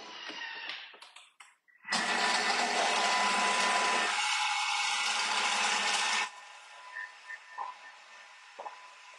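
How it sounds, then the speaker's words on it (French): A Thermomix running at speed 5 to mix vinaigrette for a Greek chicken salad: after some light handling clatter, a loud, even whirring roar holds for about four seconds, then drops away to quiet. "on va mélanger vitesse 5 pendant 8 secondes"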